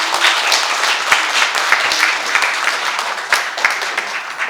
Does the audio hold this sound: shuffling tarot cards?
no